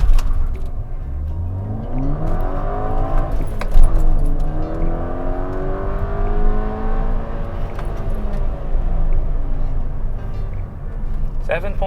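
A VW MK6 GTI fitted with a turbo outlet pipe accelerates flat out on a test run, loud engine tone sweeping upward through several gear changes with a dip between each, heard from the cabin with a voice talking over it.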